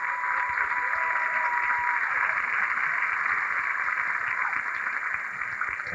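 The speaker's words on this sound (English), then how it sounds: "And ladies and gentlemen, a nice round of applause." A ballroom dancing championship audience breaks into steady, sustained applause, a dense wash of clapping that fills the hall throughout and stays loud and even.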